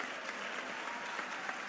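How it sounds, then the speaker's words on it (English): Soft, steady applause from a conference audience at a women's day event, a faint continuous patter of clapping without clear individual claps. "Give him a round of applause."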